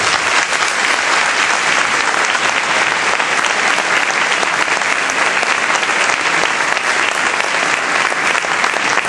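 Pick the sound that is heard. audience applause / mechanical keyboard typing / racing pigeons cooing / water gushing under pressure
audience applause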